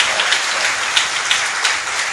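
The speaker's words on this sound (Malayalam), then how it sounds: "ഒരു നല്ല കൈയടി ഈശോയ്ക്ക് കൊടുത്തേ, ശക്തമായൊരു കൈയടി" A retreat audience gives strong, dense applause, loud and sustained throughout with no voices over it.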